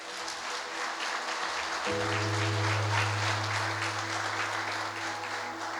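Church congregation applauding steadily, a dense wash of clapping that fills the space, with a low sustained organ or keyboard tone joining partway through.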